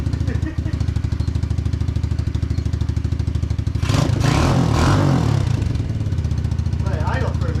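Hawk 125 dirt bike engine running at half choke, a close, steady, rapid putter with a louder burst of revving partway through and a voice talking over it.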